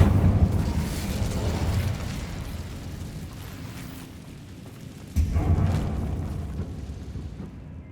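Incendio fire spell cast in the Hogwarts Legacy video game, a roaring, rumbling burst of flame that swells, fades, then flares again with a second thump, dense and fairly loud with no talk.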